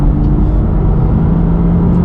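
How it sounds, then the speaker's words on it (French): A Porsche Boxster 987 with the roof down, its engine and exhaust giving a loud, steady, low droning resonance heard close up, without any talking. "c'est le moteur plus l'échappement, que vous entendez bien résonner aussi"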